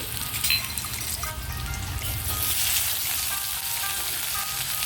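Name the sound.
ginger and garlic mix frying in hot oil on high flame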